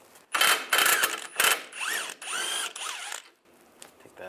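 A hand ratchet with a 16 mm socket works the lower sway bar link bolt loose on a 1999–2005 Volkswagen Jetta, giving several quick bursts of close, loud clicking with brief pauses between strokes.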